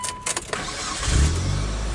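A Mitsubishi Lancer is started with the key: a brief cranking whir catches into a low, steady engine rumble, heard close and fairly loud.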